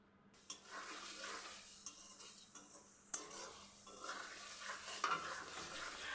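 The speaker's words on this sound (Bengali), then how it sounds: "আরও কিছুক্ষণ নাড়াচাড়া করে আমি মশলাটাকে আরও ভালোভাবে কষিয়ে নিচ্ছি।" Beef pieces stirred in a pan of spiced masala, frying with a steady sizzle while a utensil scrapes and knocks against the pan in irregular strokes, close and fairly quiet.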